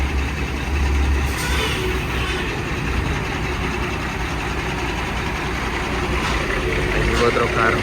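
A truck pulls up at a cargo depot, its engine rumbling steadily and idling close by throughout, with people talking over the low drone.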